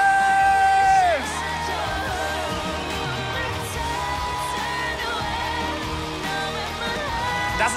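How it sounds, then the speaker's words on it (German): Studio audience on The Voice Kids, a televised singing battle, cheering and whooping in a sustained dense roar after a sung note ends, with music continuing underneath. "Das ist nochmal euer Applaus."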